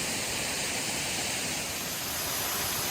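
Waterfall at Mt Buangor falls, heard from the bottom of the falls as a steady, loud broadband rush of falling water that holds constant throughout with no talk.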